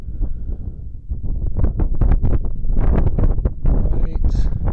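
Wind gusting outdoors at the base of a mountain, buffeting the microphone with loud low rumbles and bursts throughout while a person talks over it.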